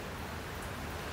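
Steady rain falls outdoors as an even, continuous hiss at low level, filling the whole moment with no voices over it.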